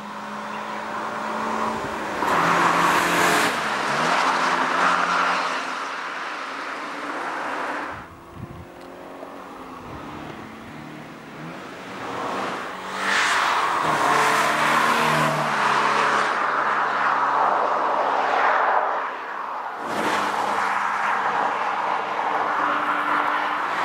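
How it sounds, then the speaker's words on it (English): A Subaru BRZ sports car climbing a high-speed uphill road in Hakone, its engine droning loudly and rising in pitch through the gears, with brief dips at shifts and a sustained rushing roar throughout. "the BRZ holds its own on the high-speed uphill road"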